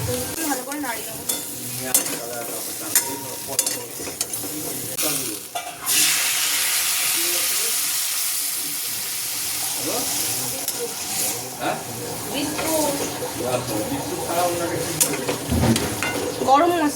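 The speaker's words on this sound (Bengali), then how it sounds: "ভালো করে নাড়িয়ে দেবো।" Aloo dum potatoes with turmeric and salt are stirred in a frying pan, a steady sizzle with scraping spoon strokes throughout, swelling into a louder hiss midway, with faint voices in the background.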